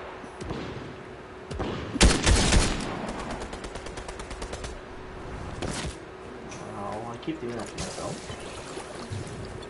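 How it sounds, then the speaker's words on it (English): Fortnite gunfire cracks out in a sharp, loud burst of several shots, followed by a rapid train of fainter distant rounds mixed with in-game sounds, partly under a player's voice. "there's gunfighting up ahead"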